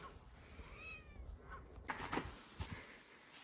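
Wild cat from a family of homestead strays meowing faintly a few times on a flower farm, thin rising cries over outdoor background noise, followed by brief rustling and knocking sounds.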